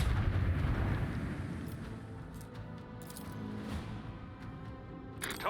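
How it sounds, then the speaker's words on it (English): Torpedoes launching from a starship in the Warhammer 40K Rogue Trader video game: a deep, steady rumbling roar that swells at first and slowly fades, with a few faint metallic clinks on top. "Don't forget to launch the torpedoes."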